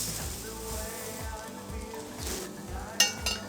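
Jasmine rice being stirred in a pot with melted butter, garlic and ginger, a close sizzle with spoon scrapes running throughout, and a couple of sharper clinks of utensil on pot near the end.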